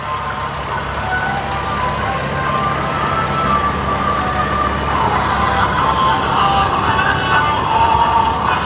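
A Brunswick Volunteer Fire Department fire truck sounds its siren while rolling in a county fair parade, a sustained wailing tone over rumbling engine noise that grows slightly louder as it nears.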